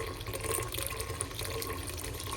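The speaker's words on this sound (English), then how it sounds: "I'm gonna put in clean filtered water. Give it a rinse, give it a wash." Clean filtered water runs steadily from a tap into a bowl of soaked soybeans for rinsing, a continuous close splashing rush with no talking.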